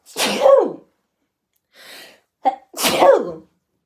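Two loud, close sneezes separated by a gap, with a faint breathy sniff and a short catch of breath between them.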